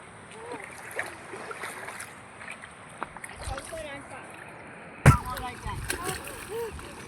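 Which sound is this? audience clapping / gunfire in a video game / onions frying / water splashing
water splashing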